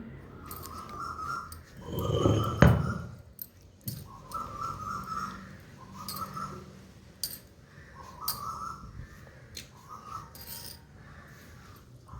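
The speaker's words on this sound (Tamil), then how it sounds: "மரத்தில் குயில் உக்காந்துக்கிட்டு எதோ பேசிகிட்டே இருந்தது" Koel calling from a tree near an outdoor wood-fire kitchen, repeated whistled phrases recurring every couple of seconds, fairly faint, with a louder rasping thump of grinding or handling noise early on.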